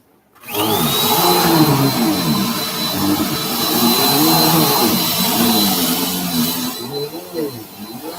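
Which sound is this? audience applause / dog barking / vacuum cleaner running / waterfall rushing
vacuum cleaner running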